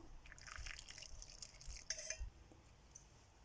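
Water is poured into a thick wheat flour appam batter in a bowl, a quiet liquid splash and trickle followed by a small clink, very faint and close.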